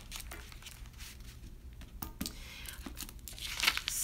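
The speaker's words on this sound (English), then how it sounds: "the deck is shuffled good" A tarot card deck being shuffled, giving papery riffling and crinkling rustles with sharp flicks, close and fairly quiet, with no speech.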